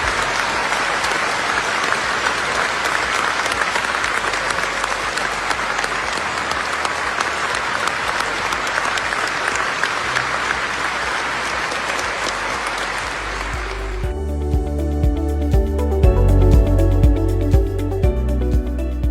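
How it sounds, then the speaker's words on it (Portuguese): A packed auditorium of doctors applauds and cheers a research result, dense sustained clapping with shouts for about thirteen seconds, then the crowd noise gives way to louder, more tonal sound. "42 segundos de aplausos e gritos"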